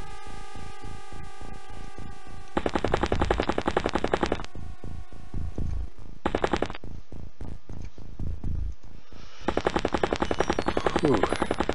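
Gunfire from the video game XCOM: UFO Defence: sharp rapid bursts of automatic shots in several rattling volleys, loud and close, separated by brief gaps with a steady electronic hum underneath.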